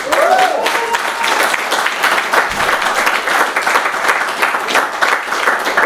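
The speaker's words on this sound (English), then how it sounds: "I think I want a round of applause" A lecture audience at a university physics department talk series gives a loud, sustained round of applause. The dense clapping fills the room without pause for several seconds.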